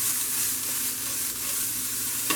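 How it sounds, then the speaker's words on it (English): Onions and Brussels sprouts sautéing in a pan, a steady close hiss and crackle of frying vegetables running unbroken with a faint stir near the end. "And we're gonna add the onions, the Brussels sprout to it."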